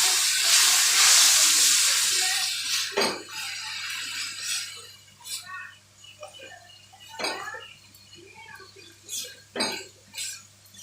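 Water poured into a pan of frying chicken for Bengali gondhoraj chicken sets off a loud burst of hissing steam that fades into quieter intermittent sizzling and clinks of a utensil against the pan.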